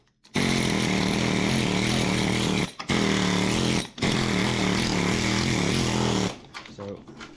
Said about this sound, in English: my air hammer